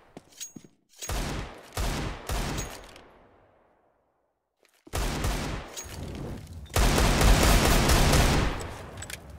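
Rapid bursts of gunfire from a Counter-Strike match on the Cache map, with Desert Eagle pistols in use, cracking out in clustered volleys, then a pause and a longer, louder barrage of repeated shots.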